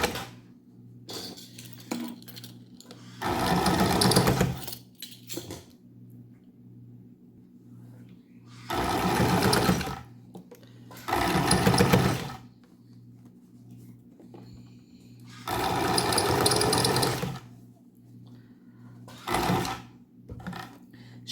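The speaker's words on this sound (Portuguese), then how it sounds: "E nós vamos passar uma costurinha aqui. Meio pezinho de máquina por aí, tá?" A sewing machine stitches a small fabric coin purse in several loud, close bursts of fast whirring needle runs, separated by quiet pauses filled with faint handling clicks and a low background hum.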